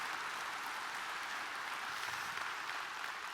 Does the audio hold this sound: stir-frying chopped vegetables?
no